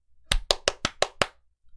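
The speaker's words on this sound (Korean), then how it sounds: "박수를 쳐줘야 되겠다." Six crisp hand claps in an even, quick rhythm, close and distinct against a quiet background, followed by a faint trailing tap.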